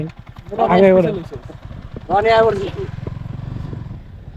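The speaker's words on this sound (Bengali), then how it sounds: "ওই যে আমাদের বাইকগুলো আসতেছে ওদিক দিয়ে" Motorcycles approach along a rural road, their engines a low, pulsing rumble that carries steadily under a person talking nearby.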